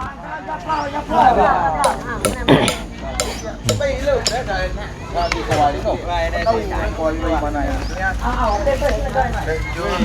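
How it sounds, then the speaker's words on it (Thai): Wood being hammered at a house-building gathering in Thailand, a series of sharp irregular knocks close by, heard amid busy chatter and voices throughout. "ตอกไม้อยู่น้องเนาะ"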